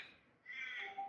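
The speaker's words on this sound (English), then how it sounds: "there's some noisy birds outside." A noisy bird calls outside, one faint raspy cry heard indoors against a quiet background.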